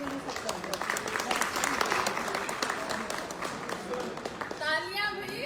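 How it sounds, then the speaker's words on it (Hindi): An audience applauds at an event, with a loud burst of clapping under crowd noise and voices, and an amplified voice speaking over the tail end. "तालियां भी एनर्जी।"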